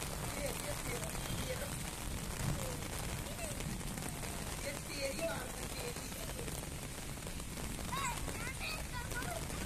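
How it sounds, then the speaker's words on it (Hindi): Heavy monsoon rain pours steadily onto a flat rooftop where water is pooling, a dense, continuous hiss of drops at close range with wind, while faint voices sound intermittently beneath the downpour. "खूब ज्यादा की बारिश हो रही है दोस्तों"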